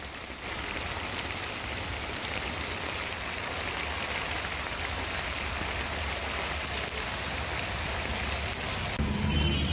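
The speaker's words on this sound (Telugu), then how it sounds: "నగర్లో వర్షం దంచికొడుతోంది." Heavy rain pours steadily over Hyderabad, a dense continuous hiss of drops on surfaces that stays loud and unbroken throughout, with a brief shift in texture near the very end.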